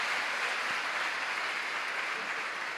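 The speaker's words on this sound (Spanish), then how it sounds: "lo despedimos con un fuerte aplauso." A lecture-hall audience applauds loudly and continuously, a dense sustained clapping that fills the whole moment as a university conference speaker is sent off.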